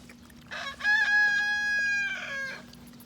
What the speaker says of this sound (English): There's that silly rooster.